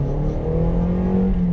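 2010 Toyota Corolla S with a chrome exhaust revving, a steady throaty engine hum held briefly at close range.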